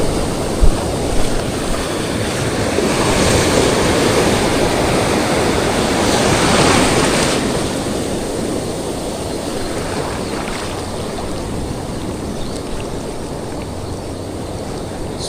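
Small ocean waves wash onto the shore at a high-tide shore-casting fishing spot, making a continuous loud surf roar that swells midway and then settles into a steady hiss, with no voices.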